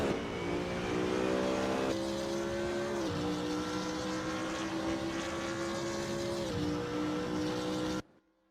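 Race car at Spa during a junior endurance race, engine droning steadily with sustained harmonic tone and slight pitch dips as it laps while warming tires, loud and continuous before cutting off abruptly near the end.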